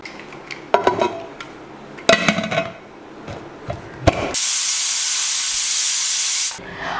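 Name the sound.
pressure cooker steam whistle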